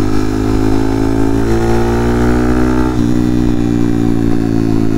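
A Honda Monkey motorcycle with a 181 big bore engine revs hard and close, its tone climbing steadily, then dropping briefly at a gear change before pulling up again under a loud, continuous buzz.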